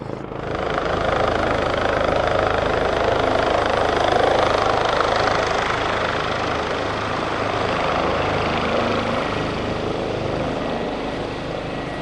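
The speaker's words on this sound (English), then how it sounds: "Helicopter." A helicopter drones steadily overhead above a UK boatyard in bitter winter cold, a loud continuous rotor and engine rumble that swells slightly mid-way and holds for about twelve seconds with no talk.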